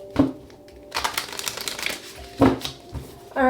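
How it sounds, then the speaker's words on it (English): A deck of cards is shuffled during a card reading, with quick riffling bursts and crisp flutters separated by brief pauses, close and fairly loud. "Last shuffle."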